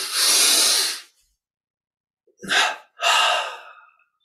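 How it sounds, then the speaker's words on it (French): Sharp nasal inhalations during a yoga breathing exercise: one long breath in through the nose, a silent pause, then two quick sniffing inhales in a row, close and clear. "Puis on prend une inspiration, une double inspire par les narines."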